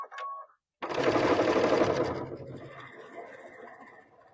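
Sewing machine stitching mesh tote bag fabric: after a brief voice and a pause, a loud, close burst of rapid stitching that tapers into quieter running.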